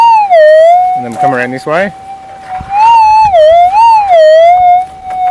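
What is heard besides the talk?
metal detector response with new Coiltek coil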